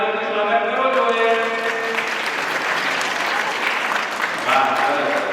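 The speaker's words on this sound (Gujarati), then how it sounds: "તમે ખાલી બાળકો જોરદાર તાળીઓથી સ્વાગત કરો છો" Schoolchildren clapping loudly to welcome their parents at a campus celebration, dense sustained applause, with a voice speaking or singing over the first seconds.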